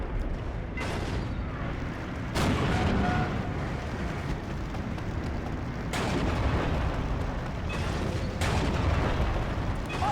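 Artillery fire in the WWII strategy game Steel Division 2, a dense rumbling battlefield din with several heavy booming impacts standing out, no talk.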